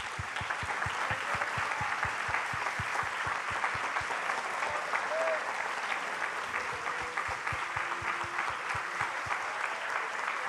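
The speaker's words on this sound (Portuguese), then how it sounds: "Vamos aplaudir o nosso Senhor." Sustained applause from a church congregation at a worship service, steady dense clapping over about ten seconds with a few distinct nearby claps standing out.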